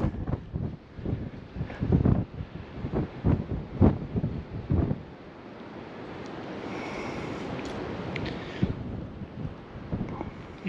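Strong gusty wind buffeting the microphone on a mountain hiking trail, rough low rumbling bursts that ease into a steadier rushing blow with faint rustle, no talk.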